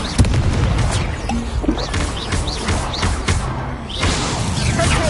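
Incendio fire spell cast amid a frantic Hogwarts Legacy duel, a dense wash of booming blasts, whooshes and crackling impacts layered over continuous game battle noise, with the player shouting spell names throughout.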